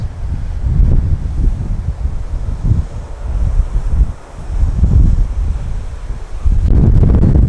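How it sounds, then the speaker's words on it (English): Strong gusting wind at a fishery buffets the microphone with a heavy low rumble, rising and falling in waves and surging again at the end. "Oh, it's so bad, that wind."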